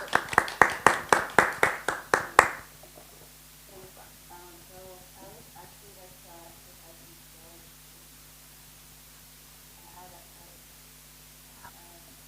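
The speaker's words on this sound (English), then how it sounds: "warm round of applause." A short burst of audience applause at a genetic engineering bio open night lecture: roughly nine sharp, rhythmic claps over a couple of seconds. The claps stop abruptly, leaving a quiet room with faint murmuring voices.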